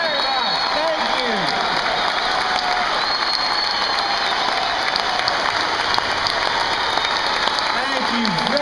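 A crowd applauds steadily throughout, a dense wash of many hands clapping at once, with a few voices faintly audible underneath.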